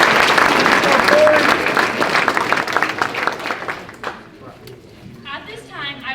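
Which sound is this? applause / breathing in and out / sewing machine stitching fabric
applause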